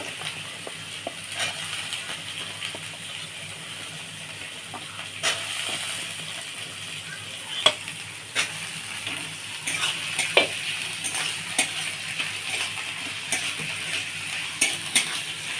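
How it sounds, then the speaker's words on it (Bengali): Carrots and long beans fry in a pan with whole garam masala and bay leaf, a continuous soft sizzle broken by scattered sharp clicks and scrapes of a stirring spoon, close and with no talk. "গরম মশলা তেজপাতা ফোড়ন দিয়ে আর গাজর আর এটা বরবটিটা যে ভাজা বসিয়েছি"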